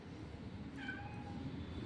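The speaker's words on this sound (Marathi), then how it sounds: "नवीन माव आहे मांजरीनेच आहे वाटते आवाज बारीक आहे" A small young cat at a window gives a single thin, high meow that rises and trails off, faint against steady low background rumble.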